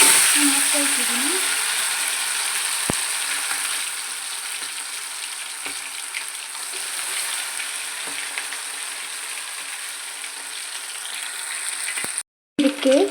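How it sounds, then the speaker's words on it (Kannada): Marinated chicken leg pieces frying in hot oil for kebabs, giving a steady, close, hissing sizzle that runs continuously with faint bubbling and occasional clinks. "ಈಗ ಎಣ್ಣೆ ಚೆನ್ನಾಗಿ ಬಿಸಿ ಆದಮೇಲೆ ಅದಕ್ಕೆ ಹಾಕ್ಕೊಳ್ತಿದ್ದೀನಿ"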